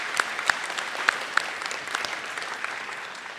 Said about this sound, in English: Please give them a round of applause for their dedication to Portage.